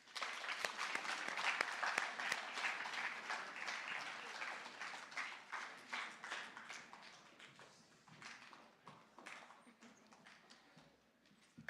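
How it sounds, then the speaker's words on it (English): An audience at a junior high academic awards ceremony claps in a warm burst of applause that gradually thins out and fades toward the end. "Okay, you can give them a round of applause."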